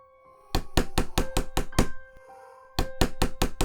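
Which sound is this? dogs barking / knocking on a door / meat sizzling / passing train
knocking on a door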